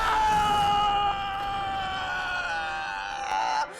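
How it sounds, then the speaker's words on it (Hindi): A young boy's scream, played over a phone line as a ransom threat, rings out loud and strained at first, then wavers into a fading, groaning wail before cutting off abruptly. "ये तेरे पोते की चीख थी"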